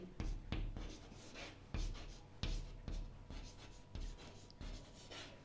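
Chalk or marker strokes on a classroom board during a Class 10 trigonometry lesson, a run of short scratchy taps and scrapes in an irregular rhythm, fairly close and moderately loud, with no talking.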